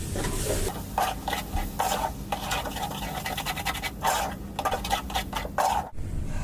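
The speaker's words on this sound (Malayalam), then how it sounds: "ഇനി ഇതിൻ്റെ ഈ പച്ച മണം മാറുന്നത് വരെ ഒന്ന് ഇളക്കി കൊടുക്കാം" Masala powders and garam masala stirred in a pot for chicken majboos, a rapid rhythmic scraping and rasping of a spoon against the pot base, mostly close and steady with brief pauses and a soft thud near the end.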